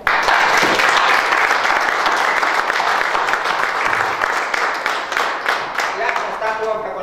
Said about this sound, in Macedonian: Па би сакал во чест на нив еден мал краток аплауз дека ги поддржуваме